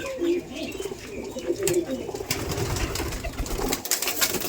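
Giribaz pigeons at a pigeon farm coo in soft, repeated low calls close by, with faint background voices and rustling mixed in.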